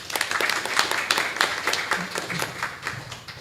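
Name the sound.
audience applause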